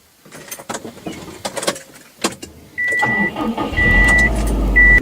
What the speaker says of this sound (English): Now let me turn the car on